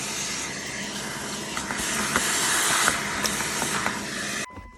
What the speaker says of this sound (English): got the shop vac, so we're just gonna get